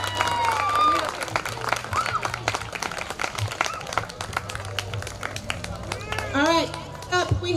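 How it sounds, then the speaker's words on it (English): Crowd applause at an outdoor Juneteenth celebration in Walpole, scattered clapping and cheering with people talking and calling out over a low steady hum. "Round of applause to my friends for helping get the initiative started."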